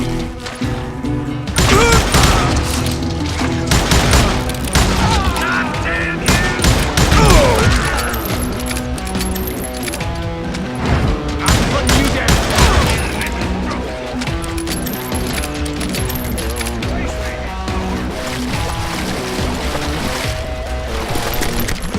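Gunfire from the Western shooter Call of Juarez Gunslinger keeps up a loud, dense run of shots with music and battle noise, and a voice shouts over it.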